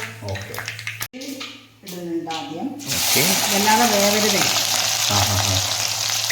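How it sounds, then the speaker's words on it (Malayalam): A voice speaks, then a loud sizzle bursts in as garlic, ginger and green chili hit hot oil, crackling steadily while talking continues over it. "വെളുത്തുള്ളി ഇഞ്ചി പച്ചമുളക് ഇവനെ നമുക്കൊന്ന് ജസ്റ്റ് ഒന്ന് ചൂടാക്കി എടുക്കണം"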